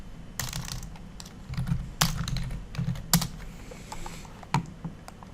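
Computer keyboard typing in irregular bursts of sharp clicks with a few louder keystrokes, close by and alone, as a search for UCL LectureCast is entered.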